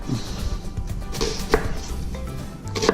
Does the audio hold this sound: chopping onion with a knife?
yes